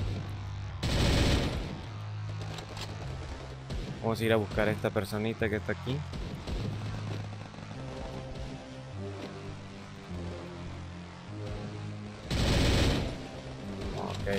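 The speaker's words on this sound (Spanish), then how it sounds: "Como pueden ver, se hacen bien los tiros." Rapid gunfire from the shooter game Free Fire, played on an emulator on a PC with 2 GB of RAM: two loud bursts of shots, one near the start and one near the end, with someone talking over the game sounds in between.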